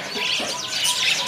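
Local budgerigars chirping at a bird market kiosk, a dense overlapping chatter of high tweets and warbles that continues steadily without pause.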